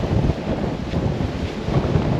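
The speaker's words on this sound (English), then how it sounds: "The wind is picking up now." Wind at La Paz port on a cold January day, roaring steadily and buffeting the microphone in a constant broadband rush with small gusty swells and no voices.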